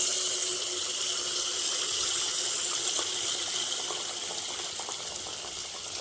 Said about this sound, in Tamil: பொறுமையாக ஊற்றிக்கோங்க